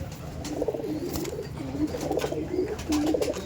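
Teddy pigeons coo in a steady series of low, rolling calls, close and fairly loud, repeating throughout with a soft rustling background.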